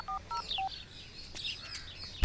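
A phone keypad beeps out a short run of dialing tones in a Kannada movie scene, three quick beeps near the start, followed by faint chirpy background sounds and a sudden thump at the end.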